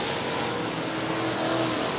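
UMP open-wheel modified race cars roar through the corners of a dirt oval at All-Tech Raceway, a steady, somewhat distant engine drone with no talk.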